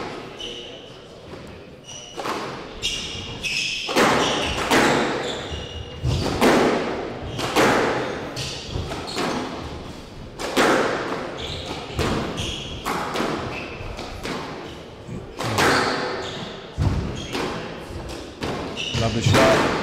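Squash ball struck repeatedly in a professional PSA Challenger Tour squash match, sharp thuds and cracks off racket and walls in a quick irregular rally, with crowd and commentary voices underneath.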